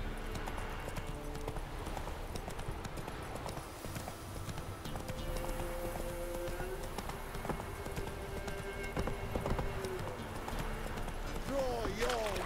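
Roach, the horse in The Witcher 3, runs with steady galloping hoofbeats mixed into in-game ambience and music, kept at a moderate level throughout.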